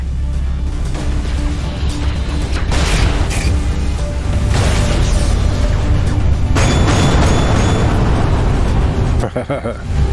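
Incoming torpedo explosions in the space combat game Everspace 2, heavy booming blasts and crashing bursts over a constant loud low engine drone, with talking over the top.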